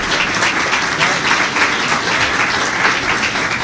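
An audience applauding at a social media panel event, loud close steady clapping from a crowd that fills the whole stretch without pause.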